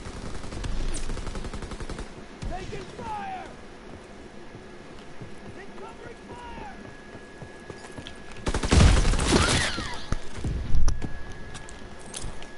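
Gunfire in the Call of Duty video game, scattered rapid shots and clattering effects through a busy game soundscape, with a loud dense burst of firing near the end.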